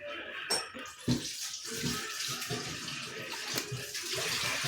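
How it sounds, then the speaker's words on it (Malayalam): Milk pours steadily for a few seconds into a bowl holding a cracked egg for cake batter, a continuous close splashing stream with a couple of brief knocks near the start. "നമുക്കിതിലേക്ക് കുറച്ച് പാൽ ഒഴിക്കാം."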